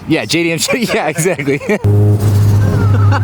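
A small turbocharged JDM car engine idles loud and buzzy with a steady drone, starting midway after people talk over a brief lull.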